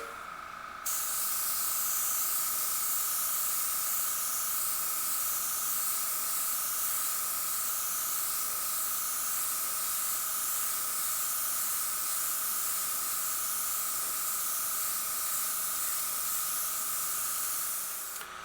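An airbrush sprays paint in one continuous, steady hiss, close and loud, as white overspray is covered. It runs almost the whole time after a brief quiet start, with no talking.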